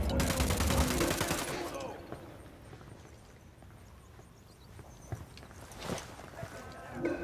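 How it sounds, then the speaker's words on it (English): Gunfire in Ghost Recon Wildlands: a dense rattle of rapid shots up front, then scattered single reports and distant bangs over a busy, rumbling background, with no talk. "clarito es que fueron unos pinches disparos"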